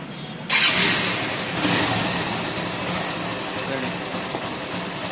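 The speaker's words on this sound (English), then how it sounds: "Now let us start cranking the engine." Honda Hornet 160R motorcycle engine cranking, a loud broadband mechanical roar that kicks in abruptly after a short quiet start and runs steadily for several seconds.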